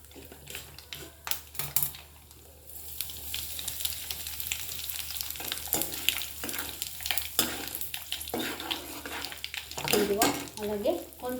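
Asafoetida and red chilli sizzling in hot oil for a raw mango pickle, a continuous frying crackle broken by scraping stirs and clinks of a spoon against the pan, with occasional speech-like sounds over it.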